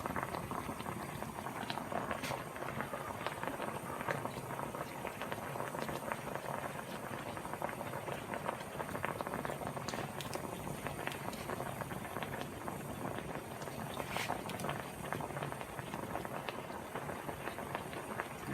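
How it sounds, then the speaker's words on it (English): Parkerizing solution held just above 190 degrees bubbles steadily in a tank, a continuous dense fizzing and popping that stays at an even level throughout with no talk. "it'll hang in the Parkerizing solution until the bubbling stops"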